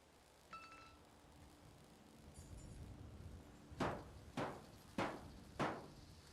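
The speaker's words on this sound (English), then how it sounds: "I hear Just hammering" Hammering in Fallout 4: four sharp metallic strikes in a steady rhythm come after a quiet stretch of faint ambient noise. They are fairly close and stand alone without speech.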